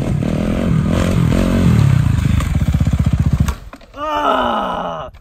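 Motorcycle engine revving hard through a wheelie, a loud sustained roar with rapid pulsing firing beats that cuts off abruptly, followed by a rising whine and a voice.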